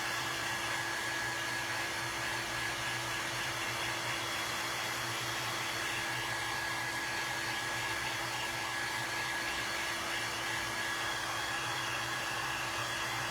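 A handheld heat tool blows hot air at a craft table, a steady close whooshing drone with a constant motor hum that runs evenly throughout.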